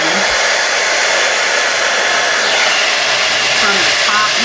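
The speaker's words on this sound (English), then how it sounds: "let's use our blow dryer on low, but on the side one last time" A hair dryer blows steadily at a low, even hiss close by, with no breaks and no other noticeable sounds.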